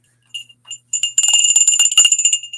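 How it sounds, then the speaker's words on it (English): Bells ringing at a wedding, a bright metallic jingle that starts with a few faint strikes and then swells into dense, continuous close ringing. "It's bells."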